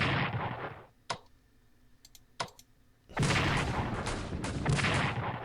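Defensive artillery fire in the WWI strategy game Strategic Command, with roaring blasts at the start and again over the final seconds, separated by a couple of sharp clicks, with no talking.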